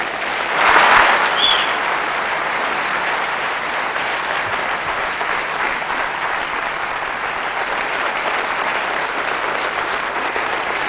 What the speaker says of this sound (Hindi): जोरदार ताली इनके लिए हो जाए।